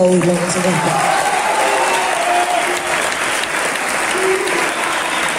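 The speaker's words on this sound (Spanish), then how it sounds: "Sí, pueden aplaudirlo, por supuesto." An audience at a book presentation breaks into continuous, dense applause that stays loud and even throughout, with voices mixed in beneath the clapping.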